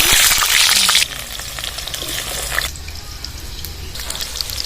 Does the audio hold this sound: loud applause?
no